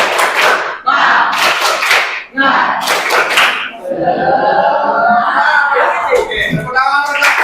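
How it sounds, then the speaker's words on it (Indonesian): A school class does a rhythmic clapping routine, with sharp claps in quick patterned groups, then voices join in a loud, lively chant. "Tepuk semangat."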